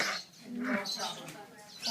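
A large pet bird, bigger than a baby but not fully grown, gives a run of squawks and chirps close by, mixed with a voice speaking over it.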